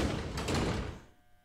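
Train doors sliding open in the horror game Platform 8, a loud mechanical rumble and clunk that fades off into quiet within a second or so, with no voices.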